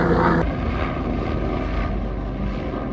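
A helicopter passes over Morgiri Fort in Maharashtra, with a steady, loud rotor and engine drone that holds throughout, heard outdoors with no talking.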